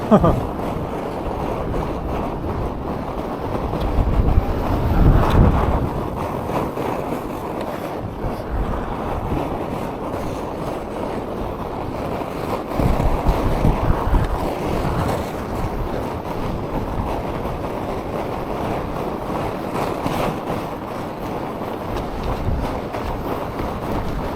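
Strong wind blows outdoors, a continuous roaring buffet across the microphone that swells in heavier gusts around a few points, with no talk over it.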